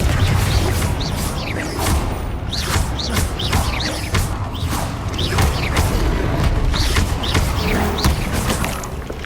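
Fire-blast spells crack and boom in rapid succession amid the Hogwarts Legacy game's combat, dense whooshing impacts and rumbling explosions layered over a loud, continuous game mix.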